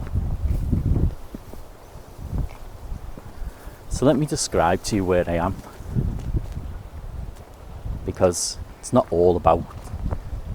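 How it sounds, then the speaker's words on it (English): Steady wind buffets the microphone in low rumbling gusts, running beneath a person speaking close by. "You'll hear that it's quite windy."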